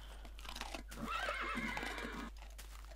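A small horse neighing in Minecraft, a clear whinny rising in the middle of the clip with faint hoof clops around it.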